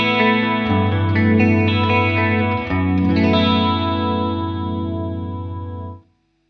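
Electric guitar runs through a parallel effects chain set to normal phase on TheGigRig G3, giving a full, thick tone with chorus-like shimmer. Sustained, loud chords ring together and then fade out cleanly at the end, with no talking.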